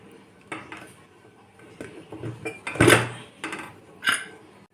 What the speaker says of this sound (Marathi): तर इथे कुकरचं झाकण मी काढून घेत आहे